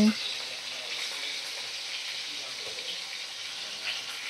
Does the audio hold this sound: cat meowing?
no